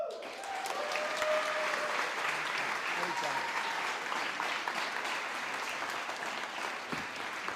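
Sustained, steady applause from an audience at a school district board meeting, dense clapping filling the room at an even level throughout.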